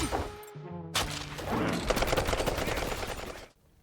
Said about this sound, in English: A giant gator in the sewers with a Gatling gun.